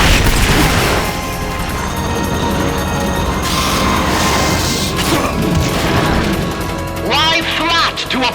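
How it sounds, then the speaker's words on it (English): The Pupa boss in the video game MGS Peace Walker fires its boosters, producing a loud sustained roar with crashing blasts and booms, while a voice speaks over the din near the end. "Firing boosters."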